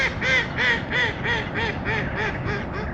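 Ducks at a lake fishing peg quack in a rapid, steady series of close, loud calls, about eight in quick succession, with no other sound competing.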